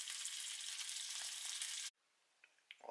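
Pieces of squirrel meat fry and get stirred around in a pan for a Virginia fried squirrel dish, a steady loud sizzle that cuts off abruptly, followed by a few quiet clicks and scrapes.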